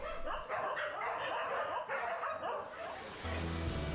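Rescue dogs at a shelter in Thailand bark at feeding time, several dogs yapping and whimpering together in a busy overlapping chorus that continues without pause. A few short higher yelps stand out near the end.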